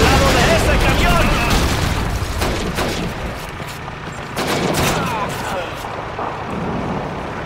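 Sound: gunfire in the video game Call of Duty 2

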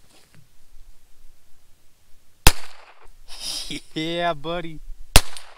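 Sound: Heritage Rough Rider .22 pistol gunshots

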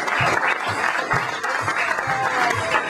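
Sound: audience applause for guest guitarist

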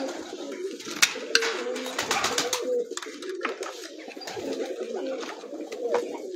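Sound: pigeons cooing on a rooftop

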